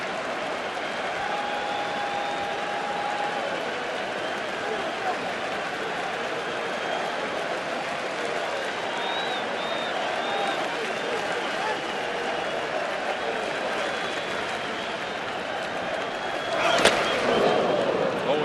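Baseball stadium crowd at a 2013 ALDS playoff game between the Red Sox and Rays, a steady loud roar of cheering and applause throughout, swelling briefly near the end, with a broadcaster talking over it.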